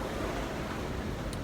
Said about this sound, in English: waves have picked up. We're moving fast,